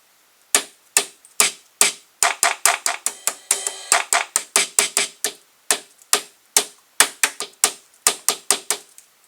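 A Yamaha DD-5 drum machine plays a pattern at full volume through its small built-in speaker, a fast stream of sharp, clicky percussive hits in an uneven rhythm with a brief denser roll near the middle.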